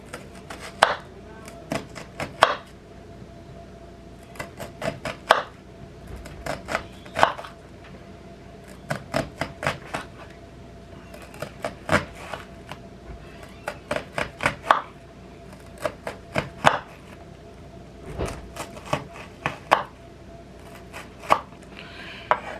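A knife chops onion for pico de gallo on a cutting board, sharp taps landing in quick clusters with short pauses between, close and clear with no talking.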